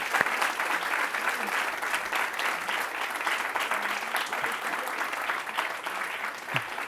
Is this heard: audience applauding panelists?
yes